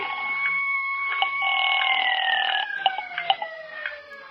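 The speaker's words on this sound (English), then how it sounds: "An ambulance siren? Well, maybe not." A wailing ambulance siren sweeps up and down in long pitched tones, fairly close and loud, with a few sharp clicks near the end, from a 1962 radio drama.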